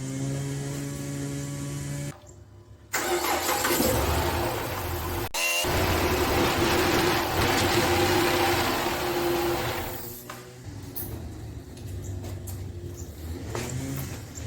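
A Chrysler 300 cranks and catches after an intake rebuild, then idles roughly with a persistent misfire, a steady close engine drone with some louder revving before settling lower, no talking.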